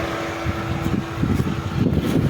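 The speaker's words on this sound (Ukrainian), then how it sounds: "Автомобіль працює, зараз запустився вентилятор вже." Radiator cooling fan of a 2012 Dacia Logan MCV 1.6 MPI petrol car whirs close by, a steady mechanical hum with the engine idling and some wind buffeting.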